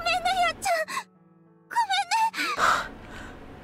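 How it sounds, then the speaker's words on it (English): A frightened gasp from a character in the game Miniature Garden, a short sharp intake of breath among voiced, whimpering vocal sounds, close and fairly loud. "Ayana let out a scared gasp"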